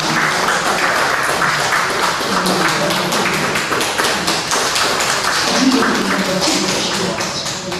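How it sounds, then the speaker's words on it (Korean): A church congregation at a Sunday service claps continuously to welcome a visiting Buddhist monk and a pastor, a loud, dense crowd applause lasting several seconds with faint voices mixed in. "박수로 환영하겠습니다"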